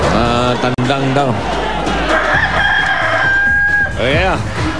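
A man imitates a rooster's cock-a-doodle-doo with his voice on a loud Filipino noontime TV game show stage, drawn-out vocal crowing over crowd noise and hosts' chatter.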